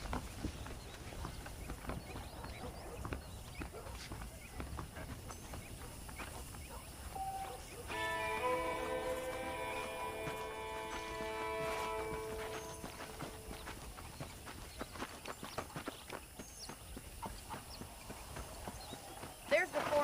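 Saddled horses' hooves clop steadily in a walking rhythm in the video game Red Dead Redemption, under ongoing talk and background music, the footfalls fairly close and moderately loud.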